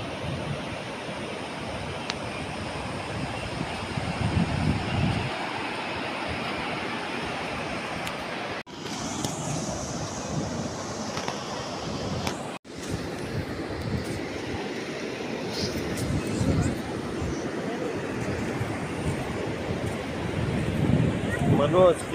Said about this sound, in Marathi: आवाज पण समुद्राचं बघा, पाणी लाटांचं